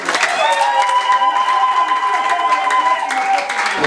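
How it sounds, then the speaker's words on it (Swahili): Church congregation clapping together during a Swahili worship service, a dense steady wash of hands filling the room, with a sustained tone and voices running beneath the applause throughout. "Chapia Bwana Yesu makofi."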